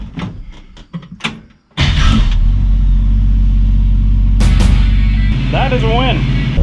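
A 1965 Ford Mustang restomod cranks and fires, then runs with a loud, steady throaty idle close by, following some brief clattering and a voice.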